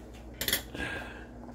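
Metal pots and utensils clatter in a kitchen while beans and cubed steak are being cooked, a short burst of bright clinks followed by softer scraping.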